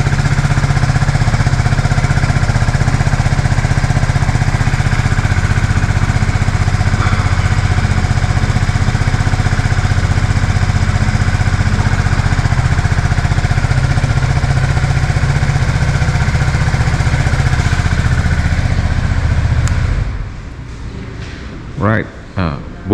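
A QJMotor Fortress 350 scooter's single-cylinder engine runs steadily and close by for about twenty seconds, a loud even drone, then cuts off abruptly, leaving a few faint knocks.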